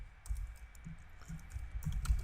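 Computer keyboard typing of Selenium code, a quick irregular run of light key clicks close by with short pauses, over a faint steady room hum.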